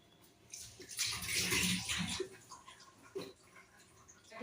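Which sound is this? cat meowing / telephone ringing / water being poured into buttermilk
water being poured into buttermilk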